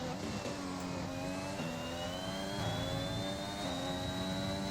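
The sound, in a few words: Red Bull F1 car driving a lap, F1 2021 video game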